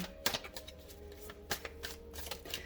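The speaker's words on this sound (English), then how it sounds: "the shuffling process can take a while sometimes" Oracle cards riffle and slap together in quick bursts, a close, crisp shuffling with irregular flicks and taps.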